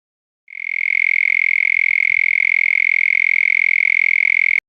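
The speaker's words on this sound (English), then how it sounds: "here is the mole cricket sound again" Mole cricket chirps blur into one constant high-pitched hum, a steady loud tone that starts abruptly after a short silence and holds evenly until it cuts off, with no talking.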